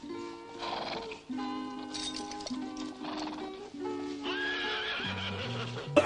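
A horse neighs and whinnies with clip-clopping hooves in the background of the film Libidomania, set against music, with repeated loud calls and a steady rhythm of hooves.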